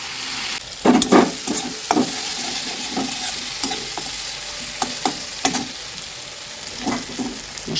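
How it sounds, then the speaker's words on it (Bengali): Spice masala fries in a pan for an egg and potato curry, sizzling steadily while a spatula scrapes and knocks against the pan in repeated, irregular strokes, with no voices. "মশলা কষানো হয়ে গেছে।"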